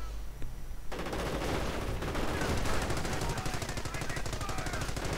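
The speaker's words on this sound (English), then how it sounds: "coming under fire from this machine gun emplacement and getting suppressed again" Machine gun fire from an emplacement in a WWII strategy video game, a loud, rapid, continuous burst of rattling shots that starts about one second in and runs to the end with dense gunfire.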